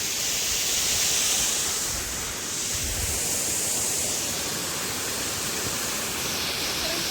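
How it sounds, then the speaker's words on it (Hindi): A village waterfall in Uttarakhand running strong and swollen after rain, a loud, continuous rushing roar of falling water heard up close, steady throughout with no voices. "ये अपने गांव का one of the most beautiful झरना है"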